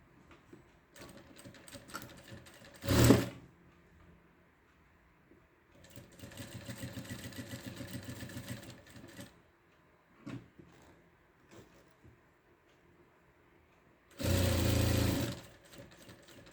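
Sewing machine stitching a zip, heard as two bursts of fast, loud mechanical whirring and one medium run of rhythmic stitching, separated by quiet handling clicks and rustles of fabric.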